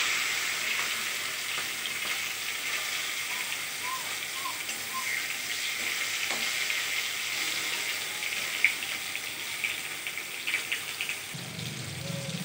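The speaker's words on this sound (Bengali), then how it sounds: "টমেটো কুচিগুলোকে তেলের উপরে দিয়ে দিলাম।" Chopped tomatoes hit hot oil and fry with a steady, moderately loud hiss. A few faint clicks and a soft knock near the end sit over the continuous crackle.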